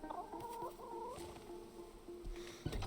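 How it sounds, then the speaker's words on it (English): Chickens clucking in the Rust video game, a soft run of repeated clucks and short tonal calls, fairly quiet and close, with no talking. "The more you pet your chickens, the happier they are."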